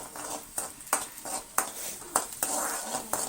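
Food is sautéed in a pan before tomatoes go in, with a spoon scraping and knocking against the pan in an irregular rhythm about every half second, close and moderately loud, with a faint sizzle underneath.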